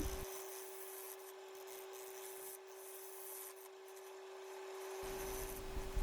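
Steady scraping and rasping of a tool cutting into a spinning maple log on a wood lathe during hollowing, fairly quiet and continuous, with a constant machine hum underneath and a louder rumble near the end.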